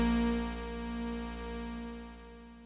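A sustained MIDI synth note in Reaper rings on with a long release, a steady harmonic tone that slowly fades without any talking.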